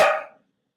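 A single dog bark, loud and close, fading out within half a second, alone with no talk around it.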